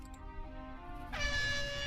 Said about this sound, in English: it's gonna play a sound, right, air horn